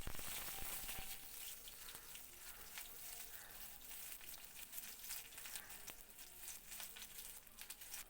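Chopped onion frying in hot mustard oil in a pan for a cabbage bhorta, giving a steady, dense crackling sizzle with small pops throughout, close and continuous, with no voices.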